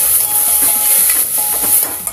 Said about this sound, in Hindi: अब हम अच्छे से मिक्स करेंगे इन्हें